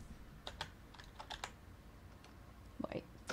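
Typing on a computer keyboard: a short run of light, irregular key clicks up close, quiet against faint room noise, ending in a couple of slightly sharper taps.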